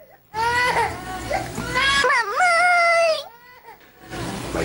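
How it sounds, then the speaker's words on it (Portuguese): A young girl wakes suddenly in a beachside hotel, screaming and crying in loud, drawn-out wailing bursts with brief gasping breaks between them. "Minha filha acordou de repente gritando pra valer"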